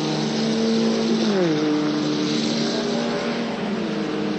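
Touring race cars in the 1985 Goodyear Laser Series race at Calder Park, engines roaring loudly as one car passes close with a sharp falling pitch, then keeps droning on the track.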